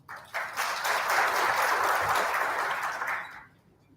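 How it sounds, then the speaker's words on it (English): An audience at an orthopedics and traumatology society conference applauds after a presentation, a dense burst of clapping that swells quickly, holds steady for a few seconds, then fades away. "Round of applause for our presenter stage."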